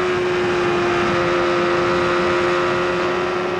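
A 1993 IndyCar engine at the Indianapolis 500 drones steadily with a sustained tonal whine, loud and continuous, with slight shifts as the throttle eases off through the turns.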